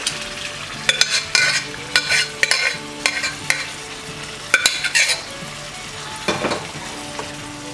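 Cooked dal with salt tipped into a hot tempering with drumstick and raw mango and stirred, making a sizzling fry broken by repeated sharp spoon-against-pan clatters and scrapes, close and fairly loud.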